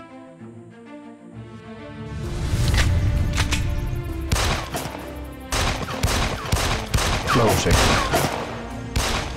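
Gunshots crack in a rapid, dense volley after a short musical lead-in, loud sharp bangs continuing for several seconds amid dramatic score, with a brief spoken word.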